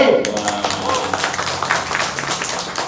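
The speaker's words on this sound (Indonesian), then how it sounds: "Tepuk tangan buat Jokowi." Audience members at a regional political speech clap in a brief, scattered burst of handclaps lasting a few seconds, fairly close and of moderate loudness, with some voices underneath.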